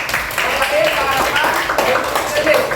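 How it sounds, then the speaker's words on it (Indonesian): A classroom of students applauds a classmate with steady, dense clapping that fills the whole stretch, with a few voices mixed in. "Berikan tepuk tangan kepada Gendis ya."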